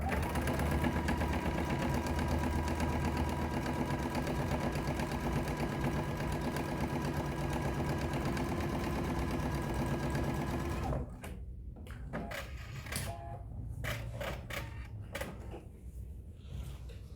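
A sewing machine stitches across the bottom of an art panel fabric basket, running steadily and loudly for about eleven seconds before stopping, followed by quieter handling of fabric.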